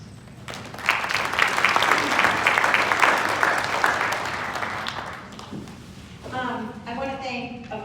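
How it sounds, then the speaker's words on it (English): Audience applause at an opioid misuse prevention symposium, a sustained wash of clapping for several seconds that fades out, after which a person begins speaking. "so let's give her a applause"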